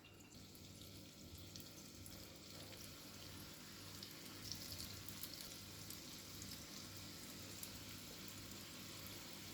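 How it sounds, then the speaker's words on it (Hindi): Chaaval bada rice fritters drop into hot oil in a kadai, setting off a steady, even sizzle and bubbling hiss that carries on for several seconds without voices. "तो अब इसमें हम बड़ा को डाल देंगे।"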